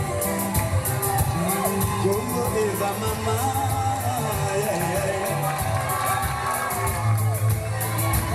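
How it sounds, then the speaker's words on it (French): Wedding guests cheer and clap loudly for the newly married couple, a dense crowd roar with whoops and rapid applause mixed with music, sustained throughout. "Merci pour les applaudissements, s'il vous plaît."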